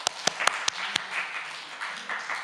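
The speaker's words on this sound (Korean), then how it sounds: "오, 박수." A few sharp claps ring out at a church young adults' Sunday service, five distinct strikes in the first second, then settling into a softer, scattered patter of applause from the small gathering.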